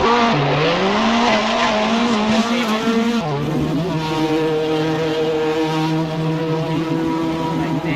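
BTCC touring cars, including a Toyota Corolla, race at Thruxton Circuit. A loud, continuous engine roar rises in pitch, drops sharply at a gear change, then climbs steadily again, with no talk.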